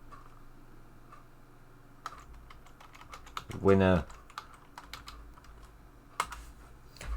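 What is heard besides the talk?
typing on a computer keyboard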